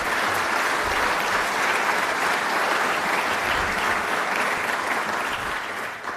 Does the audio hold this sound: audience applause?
yes